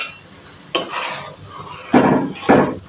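Stirring and mixing curry in a cooking pot, three distinct scraping clatters of a utensil against the metal pot, close and clear, with quiet gaps between them and no voice.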